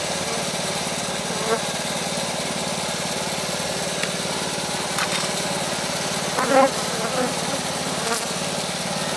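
A honeybee colony crowds a hive feeder in spring, making a dense, steady buzzing drone throughout, with a few brief knocks and handling noises rising above it.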